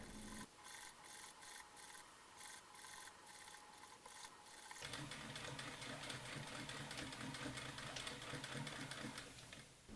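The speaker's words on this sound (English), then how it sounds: "sew the collar to the jumpsuit, beginning and ending your stitching next to the piping cord, but not stitching through the cord itself" A sewing machine stitches a collar onto a costume jumpsuit at the piping cord: first a few quick separate bursts of stitching, then a steady, close, continuous run of machine whirring with no one talking.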